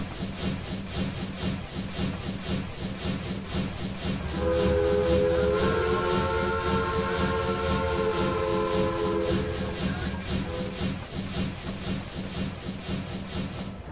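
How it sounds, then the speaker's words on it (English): Rhythmic chuffing of a Union Pacific TTT-6 2-10-2 steam locomotive in Trainz 2019 runs steadily, with a sustained whistle sounding over it in the middle before fading back to the chuffs. "the chuff sound doesn't start off that bad. It just doesn't continue."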